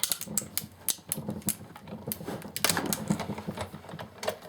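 A die-cutting machine feeds a metal garden stake sheet through a tight pass, giving off dense crackling and rapid clicking pops in an uneven, rattling rhythm, close and fairly loud.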